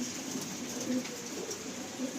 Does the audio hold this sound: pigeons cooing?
yes